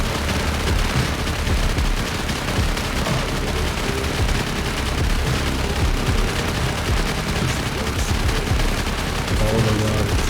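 Minigun in the video game Rust firing continuously, a dense unbroken roar of rapid shots with heavy low booms underneath, loud and close throughout with no pause.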